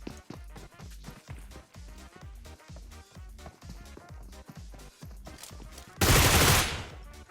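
Rapid bursts of automatic gunfire from the video game PUBG Mobile, a long steady run of close, sharp shots followed by a louder, denser blast near the end, with no talk over it.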